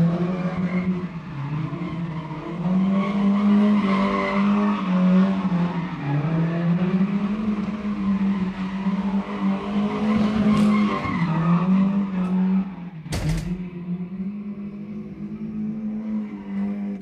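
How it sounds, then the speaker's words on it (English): Sustained tire squeal from a car doing donuts in a video game, a long continuous wavering screech with engine drone underneath, loud and close, with a brief sharp crack near the end. "that's the guy that does donuts in the fucking middle of the street."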